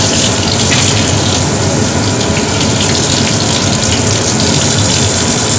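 Water gushes from a scrub sink onto hands being rinsed of soap, a loud, steady, close hiss of running water with no break.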